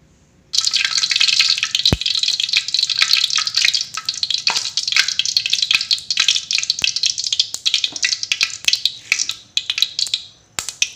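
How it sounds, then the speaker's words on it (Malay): Ground spice paste of shallots, garlic, turmeric, ginger and coriander sizzles in hot oil for a papaya leaf curry, a loud, steady crackling fry with occasional stirring clinks, close and without talk. "Kita tumis bumbunya dulu."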